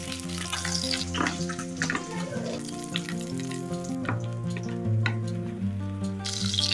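Pieces of rui fish fry in hot oil, giving a continuous crackling sizzle with scattered pops and spatters, accompanied by a faint tonal hum.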